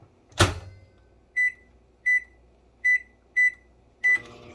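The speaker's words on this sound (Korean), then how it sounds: "계란을 굽기 위해 1분 30초를 돌려보겠습니다." A microwave oven cooking a fried egg for ninety seconds, opening with a loud thump, then five evenly spaced short electronic beeps close by, ending in a rattling clunk, with no voices.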